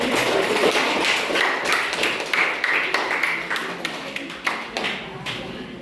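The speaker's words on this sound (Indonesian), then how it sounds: "Ya, tepuk tangan dulu." Students in a classroom clap after a group presentation, a loose patter of hands with scattered sharp taps and thuds, mixed with light chatter and voices throughout.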